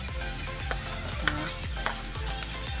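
Onions sautéed in a pan over a charcoal fire for duck kaldereta: a loud, close, continuous sizzle broken by repeated stirring scrapes, with no talk.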